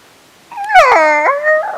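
A small puppy gives one drawn-out, wavering whimper that rises into a high whine after being picked up. It is close and clear against quiet surroundings.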